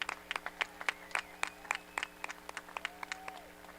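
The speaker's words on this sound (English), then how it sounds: "let's all give them a round of applause" Scattered audience clapping at a high school graduation ceremony, uneven individual claps from a modest crowd, fairly sparse and moderately close, with a faint tone running underneath.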